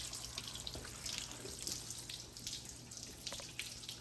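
Water from a hose rinses off a ceramic-coated car and floods the surface in sheets, a steady rushing spray with small splashes and drips throughout.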